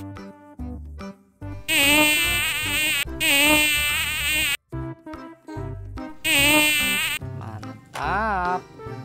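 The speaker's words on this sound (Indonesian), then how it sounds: "Lebah." A bee buzzes loudly and steadily in several long bursts, with short musical jingle passages in the pauses between them.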